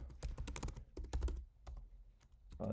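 Rapid, uneven keystrokes on a computer keyboard entering an item description for the Clover Smart Online Order system, close and fairly loud, in quick bursts with brief pauses and no talking.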